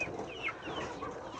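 Rhode Island chickens clucking softly and steadily at close range in a coop, a continuous murmur of low clucks with a few higher squawks rising over it, no talking.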